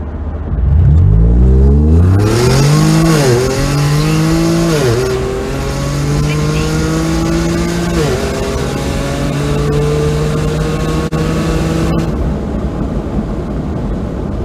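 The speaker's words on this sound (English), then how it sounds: "These Toyo R888s are definitely stickier, very aggressive tread pattern, but even then, I'm still just spinning them." A Hyundai Genesis Coupe 3.8L turbo spins its Toyo R888 tires, the engine revving hard in loud rising and falling sweeps that hold a high droning pitch for several seconds.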